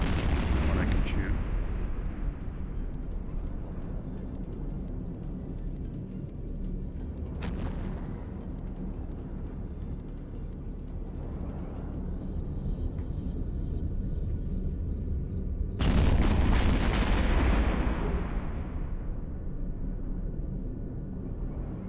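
Ship weapons fire in EVE Online as repeated deep booming blasts over a rumbling space ambience, with someone talking over them.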